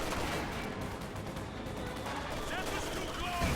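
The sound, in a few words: mortar bombarding a church in a video game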